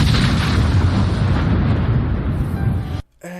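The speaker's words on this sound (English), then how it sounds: "but explosion will do." A loud, sustained explosive roar from an anime scene fills the clip, rumbling heavily for about three seconds before cutting off abruptly into near silence.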